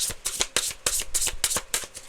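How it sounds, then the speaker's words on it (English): Tarot cards shuffled by hand in quick bursts, about eight crisp riffling rustles in a steady rhythm, close and moderately loud with no talking. "Last shuffle."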